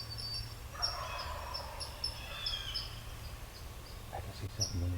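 A hen turkey calls from a distance in the woods, faint repeated yelping notes that come and go over a steady insect hum and low background rumble.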